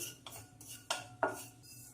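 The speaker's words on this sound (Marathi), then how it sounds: "कढई गरम असल्यामुळं आपण ही खसखस भाजून घेऊ शकतो" Poppy seeds are stirred in a hot kadhai off the flame, with a few sharp metallic spoon clicks against the pan over a quiet background.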